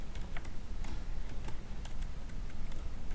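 Typing on a computer keyboard, irregular crisp key clicks in quick bursts close by over a faint room hum, with no speech.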